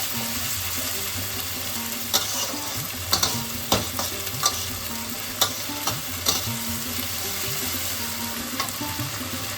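Onion fried golden sizzles in a pan with ginger, cumin, coriander and green chilli paste for a masala egg omelette curry. A continuous loud frying hiss is broken by periodic stirring knocks.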